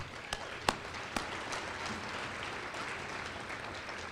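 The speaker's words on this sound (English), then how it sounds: "Let's give them another round of applause as well" Steady audience applause fills a university gala dinner in a Marriott ballroom. A few sharp, close claps stand out early over a broad, even wash of clapping with little talk.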